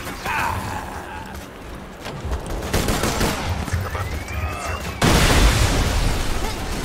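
Gunfire in the Borderlands 2 video game, with sharp reports, a whooshing projectile streak and a sudden louder burst near the end, all over a dense, continuous battle noise bed.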